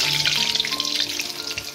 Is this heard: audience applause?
no